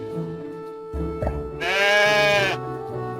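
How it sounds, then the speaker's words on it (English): A single sheep bleats clearly, a wavering drawn-out cry lasting about a second over a soft musical backing. "A sheep."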